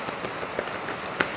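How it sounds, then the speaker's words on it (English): Rain falling steadily on a surface, a soft continuous patter with a few sharper drops standing out. "The rain. I love the rain."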